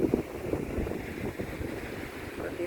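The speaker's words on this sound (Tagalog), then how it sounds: "Kahit ang lakas-lakas ng hangin, okay lang." Strong wind gusts buffet the microphone on Langogan beach in Palawan, a steady roaring rumble with faint surf underneath, loud and close throughout.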